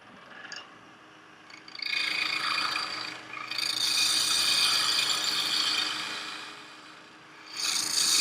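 Wood on a lathe during spindle turning of an end grain lidded box, giving a bright rasping, scraping cut. It comes in long sustained passes with short pauses between them, close and fairly loud, with no talking.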